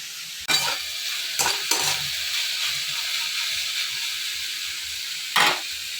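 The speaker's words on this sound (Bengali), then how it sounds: "উচ্ছে ভাজা বসালাম" Sliced bitter gourd frying in a pan in a home kitchen, a steady close hiss of hot oil broken by a few brief louder bursts of sizzle or stirring.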